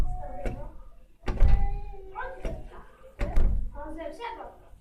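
Interior door, such as a kitchen door, fitted with a homemade silencing stopper and plastic rings, being closed several times; muffled soft thuds recur in a loose rhythm, close by and moderately loud, with no hard slam.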